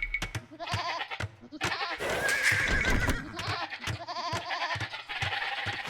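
Sheep in a strategy video game bleat several times in short, moderately loud calls, mixed with clicking and other busy game effects.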